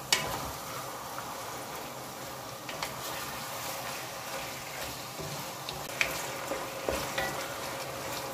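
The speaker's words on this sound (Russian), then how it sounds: "Вот оставим мясо жариться, постепенно я буду перемешать." Meat frying in a pan for Italian lasagna, stirred now and then: a soft, continuous sizzle with occasional sharp clicks and scrapes of the utensil against the pan, fairly quiet and with no talking.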